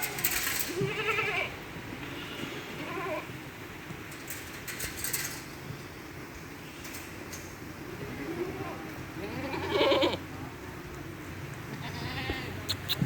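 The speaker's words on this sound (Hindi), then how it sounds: "ये आ गया जी लूसन और ये बकरियां पहले ही जाके खुरली पे खड़ी हो जाएंगी।" Goats crowd a feeding trough awaiting dry lucerne fodder, several bleats rising at intervals among rustling, hoof shuffles and faint clinks, with someone talking throughout.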